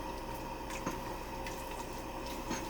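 Cornstarch slurry stirred into bubbling chicken satay sauce in a pan, a steady low simmering hiss with soft wet squishing and occasional stirring clinks, close and continuous, no talking.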